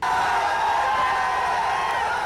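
A dense crowd outside an airport in Kochi cheers and chants slogans during a road show, a loud continuous roar of many voices with no break.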